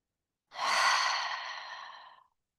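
A single long open-mouth exhale during yoga breathing, breathy and close, starting strong and slowly fading out, with silence before and after.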